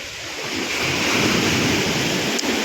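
Sea waves roll onto the shore in a loud, continuous roar, with wind buffeting the microphone and a faint swell in intensity partway through.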